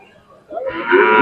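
Cattle at the Sangola bull market in Solapur district, Maharashtra, with one loud, close moo swelling up and holding to the end of the short clip.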